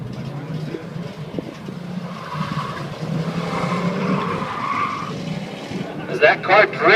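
A 1966 big block Corvette drifts around a track at a car show, its tires squealing loudly over engine roar, with a commentator talking throughout.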